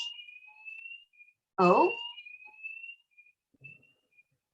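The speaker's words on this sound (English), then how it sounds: "there seems to be a fire alarm going off" A fire alarm sounds inside an institute building as a steady high electronic tone, continuous and fairly faint in the background, while a person briefly speaks over it.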